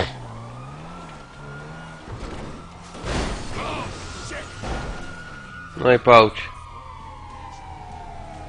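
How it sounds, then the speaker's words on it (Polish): Police sirens wail in Grand Theft Auto V as two patrol cars chase a stolen car, a long steady siren tone sweeping under engine noise and bursts of game sound, with someone talking over it. "jedna gwiazdka i dwa radiowozy mi ganiają"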